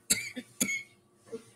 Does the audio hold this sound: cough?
yes